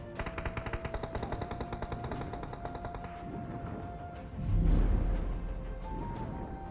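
Rapid bursts of automatic gunfire crackle in a battle royale video game, firing in a fast regular rhythm for about three seconds, then a heavier low boom and scattered shots follow, with no speech.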